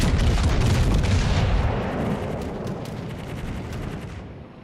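Naval guns ripple firing in World of Warships: Legends: a loud, rumbling burst of heavy cannon blasts that slowly decays into a fading boom over a few seconds.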